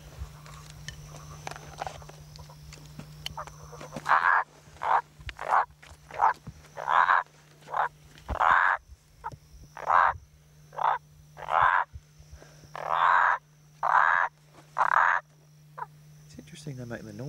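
Yellow-spotted bell frogs call in a steady series of about a dozen loud, close, growling croaks, evenly spaced over a low constant hum, with faint voices nearby at the start.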